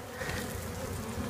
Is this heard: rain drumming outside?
no